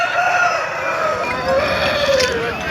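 A rooster for sale at the Pileru weekly poultry market gives drawn-out crowing and clucks over steady market noise, fairly close and loud throughout.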